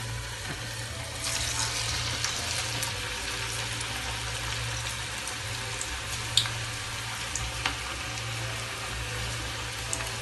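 Onion fritters (ullivada) frying in hot oil over a medium flame in a large pan, giving a constant, even hiss with no speech and a low hum underneath.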